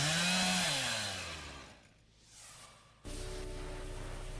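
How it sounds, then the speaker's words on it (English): A chainsaw revving in the video game Tokyo Necro, its loud buzzing engine pitch sliding down and fading, then snapping back to a steady roar, with no talking over it. "This chainsaw's always been my trusty partner"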